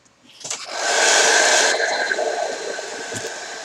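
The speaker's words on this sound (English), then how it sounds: "I'm going to give air dryer on this." An air dryer blows onto fresh oil paint on an Academy Merkava Mk III model tank, a close, loud steady whoosh that swells up, holds and then eases slightly.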